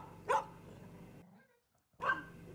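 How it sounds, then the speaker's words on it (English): A fearful dog gives two short, sharp barks about two seconds apart, fairly close, with quiet room tone between them. "has a bit of a bark"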